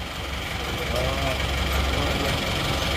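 Toyota Kijang diesel engine running after an engine rebuild, a steady loud idle with a continuous knocking rumble throughout, close by.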